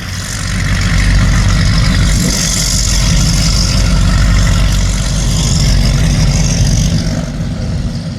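A boat engine pulls away from a dock on a Great Loop trip toward Lake Okeechobee, its loud, deep throbbing rumble holding steady and swelling slightly throughout.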